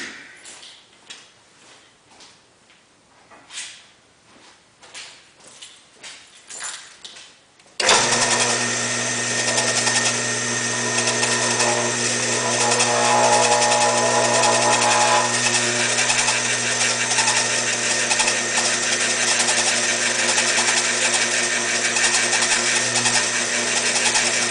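Drill boring two holes for a lathe coolant system on a Lincoln NS-190 lathe, a quiet stretch of light rhythmic clicking followed by a sudden, loud, steady motor whine that runs without a break to the end.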